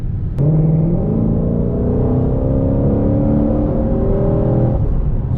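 A 2020 Shelby GT500 engine holds a loud, steady high rev close by, its pitch climbing slowly in one sustained pull before cutting off near the end.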